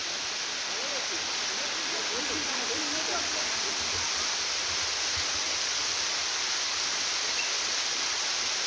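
A waterfall roars continuously across rocky cliffs, a dense, steady rushing wash that never lets up, with a voice faintly audible beneath it.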